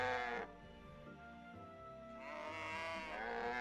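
Cows mooing in the farming video game My Time at Portia, two long drawn-out moos close by, separated by a quieter pause.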